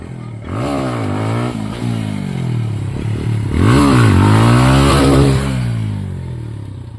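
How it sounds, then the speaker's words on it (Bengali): A motorcycle revs hard during a wheelie, its engine loud and close, climbing and falling through repeated rising and dropping sweeps, with a louder surge midway before easing off. "ভাই কি হুইলি মারছে ও"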